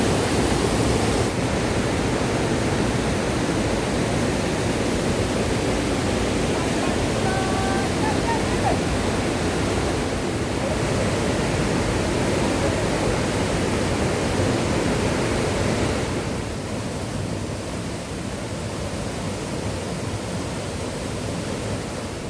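The Mukkha waterfall in Sonbhadra, Uttar Pradesh, makes a loud, steady, broadband roar of falling water that fills the whole stretch without a break.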